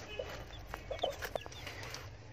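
Fayoumi chickens give a few short, scattered clucks close by, with soft farmyard noise in the background and no talking.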